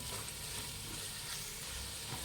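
Egg fried rice ingredients frying in hot oil, a steady dense sizzle at close range with faint stirring, alone with no voices.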